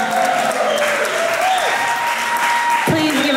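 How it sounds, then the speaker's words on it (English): Applause from an audience greeting performer Graham Patzner, a steady, dense wash of clapping heard fairly close, with a couple of sliding tonal sounds over it and no clear talk. "Please give a round of applause for Graham Patzner."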